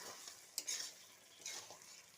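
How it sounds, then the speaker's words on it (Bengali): Chicken being stirred and fried in a pan for a potato chicken kosha, with a soft, steady sizzle and a couple of scraping stirs of a utensil against the pan, quiet and close. "ঢেলে দিয়ে প্রথমে আমি মাংসটা একটু কষিয়ে নেব।"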